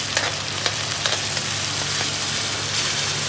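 Chopped onions and mustard seeds sizzling in a hot pan, a steady close crackle with a few sharper pops and light stirring, no talk.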